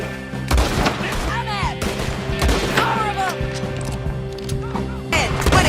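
Gunfire in a Rockstar game in the Red Dead Redemption style: several loud bursts of shots with booming impacts over a continuous rumbling game soundscape, and a voice briefly heard in the mix.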